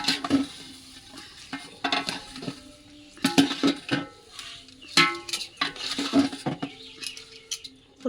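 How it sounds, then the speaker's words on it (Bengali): Soaked rice and moong dal are stirred and fried in a pan for khichuri, with scraping stirs, clinks against the pan and a light sizzle in intermittent bursts. "এখন ভিজিয়ে রাখা চাল আর মুগ ডালগুলো দিয়ে ভেজে নেব।"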